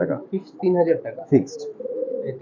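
Red-necked highflyer pigeons at a pigeon farm in Khulna coo softly nearby, their low throaty calls mixed with someone talking over them.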